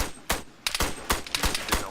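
Rapid bursts of automatic gunfire in a shooter video game, sharp repeated cracks in quick succession, loud and close, with no talk over them.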